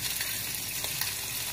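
Hamburger patties fry in a pan, giving a close, continuous hissing sizzle with faint crackles and no voices.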